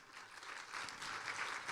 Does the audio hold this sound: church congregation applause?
yes